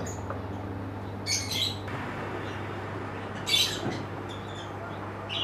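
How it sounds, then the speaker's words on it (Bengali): Domestic pigeons at home, a pair ready to lay eggs, with two short bursts of calling over a low steady background hum, no speech. "এই পায়রাগুলো ডিম পাড়বে, পুরো রেডি হয়ে গেছে ডিম পাড়ার জন্য"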